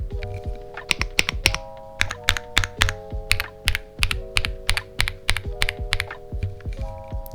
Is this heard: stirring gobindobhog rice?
no